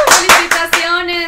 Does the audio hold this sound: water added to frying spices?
no